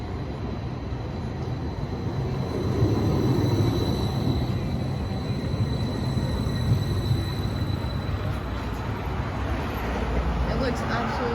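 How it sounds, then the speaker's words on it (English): An Edinburgh tram pulls into the McDonald Road stop with a steady rolling rumble and a faint high electrical whine, rising slightly as it nears over continuous street noise. "Here we have another tram coming in to take us away from McDonald Road."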